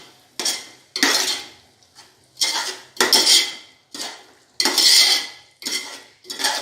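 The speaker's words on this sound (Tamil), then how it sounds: "நல்லா கிண்டி விடுங்க" A spoon scrapes and clatters against a pot while chicken biryani with coriander and mint is stirred, in close, loud bursts roughly every second with short pauses between strokes.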